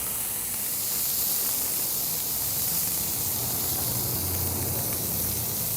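Wagyu beef burgers sizzle on a hot griddle, giving a steady, dense hiss of frying fat that stays close and even throughout, with no voices over it.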